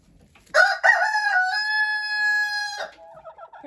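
A rooster crows loudly and close by, one long drawn-out call that is followed by a few softer clucks in a snowy backyard flock.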